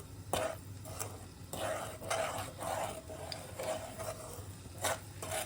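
Amaranth (rajgira) flour roasting in ghee, stirred steadily in a pan for a fasting sheera, with repeated soft scraping strokes over a gentle sizzle, close and moderately quiet, no voices.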